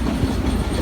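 The Silver Dollar City tourist train in Branson, Missouri, rumbles steadily along its rails in a loud, close, continuous roll with no voices over it.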